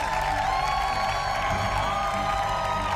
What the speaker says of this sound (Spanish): Al aplauso increíble para él.